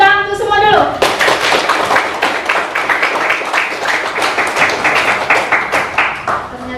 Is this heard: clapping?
yes